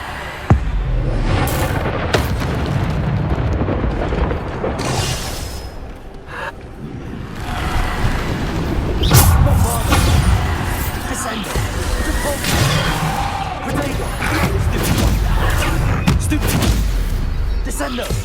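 Bombarda spell explosions in the game Hogwarts Legacy, loud booms and crashing bursts repeating through a chaotic magical fight, with whooshes between them and a voice shouting spell names over the top.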